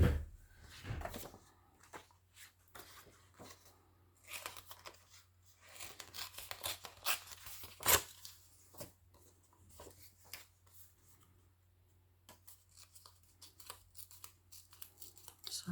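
Scissors or hands trimming the edges off paper pages for a shabby-style journal, with irregular close snips, tearing and rustling, faint with louder bursts, and no talk.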